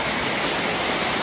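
Rushing water of the Bopagama Ella waterfall and its stream, a dense, steady roar that fills the short stretch evenly and closely, with no voices over it.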